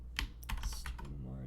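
Brief, quiet keystrokes tap on a computer keyboard while a command is typed into a terminal, with a voice speaking over part of it.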